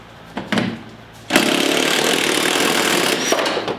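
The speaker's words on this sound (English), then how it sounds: "I have now the extension right here sticking up so I can put my impact gun and loosen that bad boy." An impact gun on an extension loosens a nut on a UTV during a whip-light install. A couple of short bursts come first, then a loud, sustained rattling hammer lasting about two seconds before it stops.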